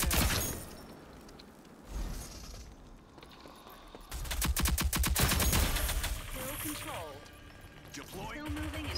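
Rapid automatic gunfire in the shooter game Rogue Company comes in uneven bursts, loudest in a sharp, crackling volley midway, with other game sounds and voices in the mix.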